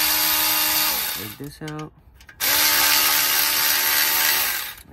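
An electric ratchet spins out engine mount bolts on a Mazda: loud, close whirring bursts before and after a brief pause, with a short spoken remark in between.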